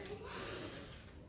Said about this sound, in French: On inspire